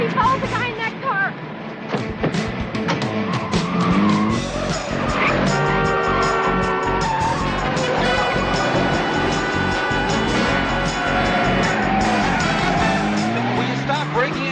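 A car tears through turns during a police chase in a crime drama, tires squealing and skidding over a loud, continuous engine roar, with people talking over the commotion throughout.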